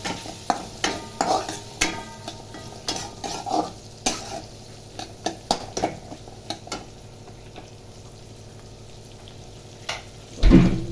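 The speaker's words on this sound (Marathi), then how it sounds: "त्याच्यानंतर टाकणार आहोत कांदा परतून घेणार आहोत" Chopped onion sautéing in a pan, with a spoon knocking and scraping the metal in irregular clusters over a low sizzle, close by, ending in a louder clatter.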